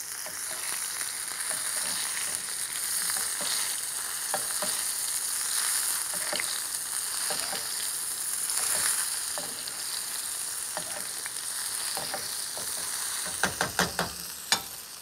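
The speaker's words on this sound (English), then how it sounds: "add a little bit of butter into it and do a technique that is known as arrosé" Scallops fry in a pan as butter is spooned over them in the arrosé basting technique, giving a continuous loud sizzle and crackle with stirring noises, and a few sharp clinks near the end.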